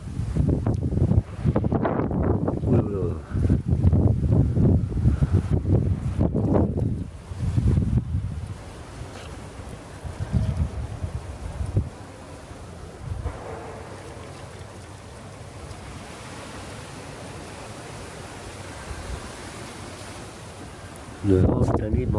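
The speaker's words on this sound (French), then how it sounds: "Le vent cette année m'empêche de faire un film" Gusty wind rumbling and buffeting the microphone in a tomato garden, loud in bursts early on, then settling into a quieter steady blow before a final gust.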